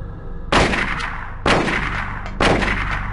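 Three heavy gunshots from the PlayStation game Silent Hill, each a sharp loud blast with a ringing tail, spaced about a second apart.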